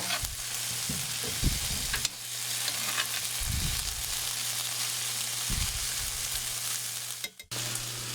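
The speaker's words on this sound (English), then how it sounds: "we're gonna turn the heat up. We wanna char this stuff" Diced vegetables char in a pan over high heat with a loud, continuous sizzle, broken by a few scraping stirs and pan knocks, close and without speech.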